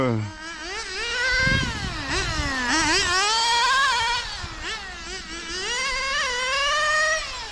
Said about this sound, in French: Ah, le moteur prend carrément...